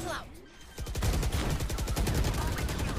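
Rapid gunfire from Valorant rattles in dense, continuous bursts of closely spaced shots that hold steady and loud throughout.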